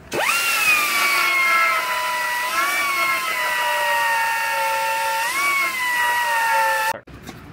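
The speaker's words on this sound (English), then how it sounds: "I have some more welds around here I gotta drill out." A power drill bores out spot welds on a car's strut tower in a body shop, whining loud and steady for about seven seconds and dipping slightly in pitch twice under load before it stops abruptly.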